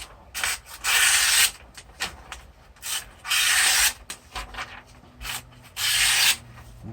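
An OKC RAT 1 folding knife blade slicing through material in a cut test, producing several rough, raspy strokes of about half a second each in an uneven rhythm, close and fairly loud with no talk.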